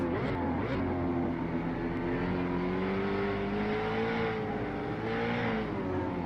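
A V8 Supercar engine in a racing video game, heard from the cockpit view, revs continuously with rising and falling throttle-blips across a steady, loud drone. No voices over it.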